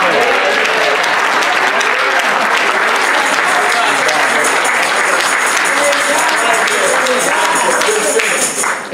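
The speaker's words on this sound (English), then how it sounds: "let's give the Lord a hand clap" A Baptist church congregation at a youth day service gives a loud, sustained hand clap, dense and close, continuing evenly for about nine seconds and trailing off only at the very end.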